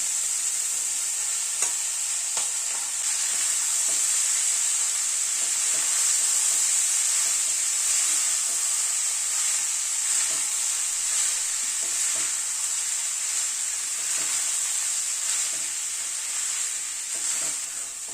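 Rice being stir-fried in a pan for orange fried rice made with orange juice and pulp, a steady loud sizzle with a hiss over it and scraping spatula strokes all through, no voices.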